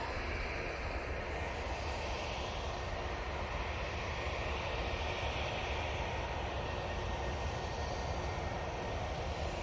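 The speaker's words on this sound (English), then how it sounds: "British Airways A319 going back to London Heathrow now" A British Airways A319 airliner at Manchester Airport, its engines giving a loud, steady roar and rumble that holds evenly for the whole stretch, with no talk.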